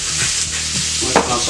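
Loud, close sizzling of food frying in a pan for a stir fry with garlic, salt and pepper, a dense continuous hiss punctuated by brief scraping stirs.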